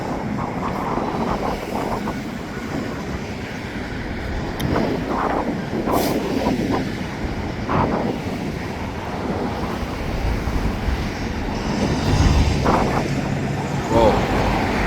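A freight train with hopper cars, probably carrying cement, rolls past nearby with a steady rumble and scattered clanks from the cars, wind buffeting the microphone throughout.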